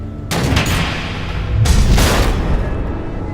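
Missile explosions in the video game Batman: The Enemy Within: two loud, close booming blasts, each a heavy roaring rumble, with no talk.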